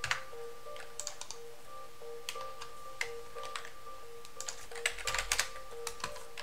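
Someone types at a command line on a computer keyboard, a quiet run of light key clicks in uneven bursts over a faint steady background hum, with no talk.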